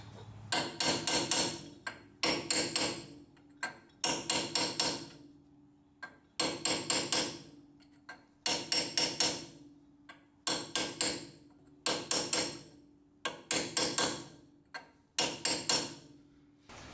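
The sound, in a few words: hammering bushing metal flange into Ford van axle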